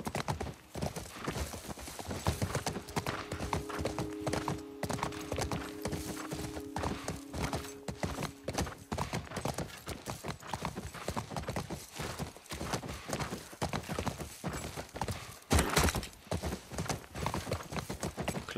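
Horse hooves clip-clop steadily and continuously in The Last of Us, a dense, close rhythmic patter mixed with game ambience, joined briefly by a low tonal hum partway through.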